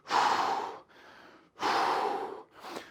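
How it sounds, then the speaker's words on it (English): Heavy workout breathing during a bodyweight session: two loud, close, rushing breaths in, each followed by a softer breath out, with no talk. "Big breath in."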